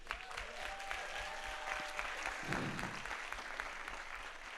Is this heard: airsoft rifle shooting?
no